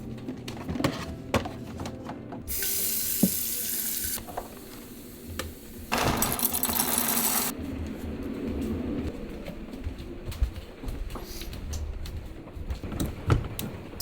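A coffee grinder works on coffee beans in a bedroom of an RV early in the morning, with two loud bursts of whirring grinding separated by a pause, amid soft clicks and handling noises.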